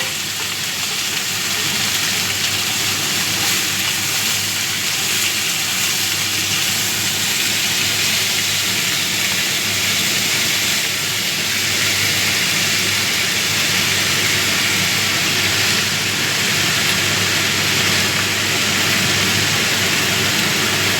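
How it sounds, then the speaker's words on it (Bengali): Spinach leaves frying with green chillies in a pan give off a loud, continuous sizzle and hiss that holds steady and close throughout, with no talking. "এবার পালং পাতাটাও দিয়ে দিচ্ছি।"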